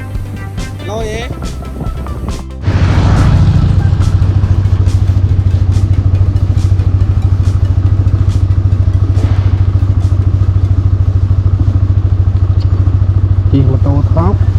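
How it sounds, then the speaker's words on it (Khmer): A motorcycle ridden along a road toward Sihanoukville, with a loud, steady engine drone and wind rumble that holds close after a brief start, while a voice talks over it. "ជិះម៉ូតូថោក"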